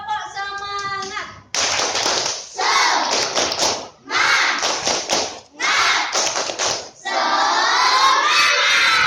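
Schoolchildren in an Indonesian classroom perform a rhythmic spirit clap chant, loud bursts of group clapping and shouted chanting in several close, energetic phrases, after a brief whistled or sung intro.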